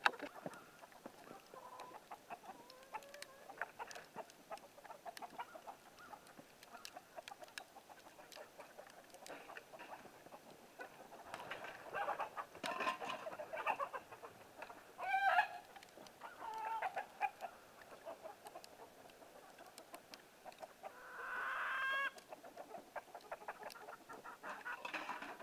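Chickens cluck and murmur inside a coop on a snowy winter day. The soft, scattered calls fade in and out at close range, with a few louder squawks and light rustling between them.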